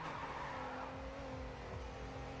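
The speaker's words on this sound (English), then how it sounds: "And instead here drifting in the last one." A car drifting in the GRID 2 racing game, its tires skidding through a corner under a steady engine drone, fairly quiet overall.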